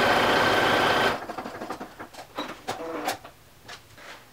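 Sewing machine stitching fabric with a dense continuous whir that cuts off after about a second, then scattered clicks and handling taps of the machine and cloth.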